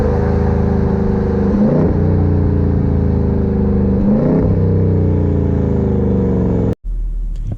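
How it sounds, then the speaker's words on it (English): A 2018 Dodge Durango SRT idling in stopped traffic, its exhaust a steady low droning rumble heard from inside, with two slight swells and a brief cut near the end. "it's actually not horribly loud when it's just sitting there at idle. You can definitely hear the rumble out the exhaust a little bit"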